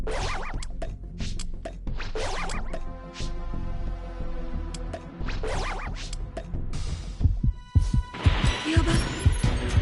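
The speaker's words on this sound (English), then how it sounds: "So you're gonna hear that heartbeat whenever the raider's close to you." A heartbeat warning cue in Dragon Ball: The Breakers that sounds when the Raider is close, a steady thumping pulse under musical game sounds that grow busier toward the end.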